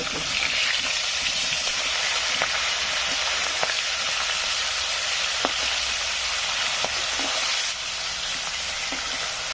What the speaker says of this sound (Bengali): সর্ষের তেল মাছটি দিয়ে দিতেছি